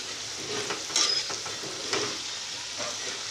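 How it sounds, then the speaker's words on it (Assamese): Potato pieces fry in a pan, producing a soft, steady sizzle close by, broken by a few light stirring scrapes and clicks. "এয়া মই এনেকৈ প্ৰথমতে আলুকেইডোখৰ ফ্ৰাই কৰি লৈছোঁ।"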